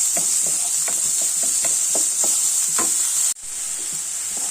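Onions, about a kilo, sautéing in a pan with a constant loud hiss, and a spoon scraping through them in a string of evenly spaced strokes; the sizzle drops briefly near the end before resuming.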